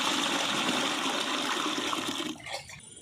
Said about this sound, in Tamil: அரிசி வேக வைக்க தண்ணி ஊற்றிக்கலாங்க.